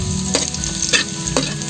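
Garlic sizzles loudly in a frying pan, a dense close hiss with three sharp scraping strokes of a stirring utensil spaced evenly across the moment, and no voices.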